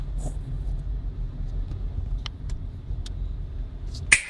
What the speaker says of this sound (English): here we are back in the car